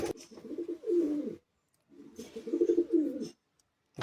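Madrasi high-flying pigeons coo at a loft in Bagnan, Chandrapur. Two close, soft bursts of throaty, rolling cooing are separated by a short pause.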